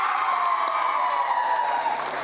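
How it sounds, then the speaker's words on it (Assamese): Audience applause and cheering after a dance performance at a car dealership's anniversary celebration, a dense steady wash of clapping from a crowd that runs throughout and tapers slightly at the end. "এটা জোৰদাৰ হাত চাপৰি"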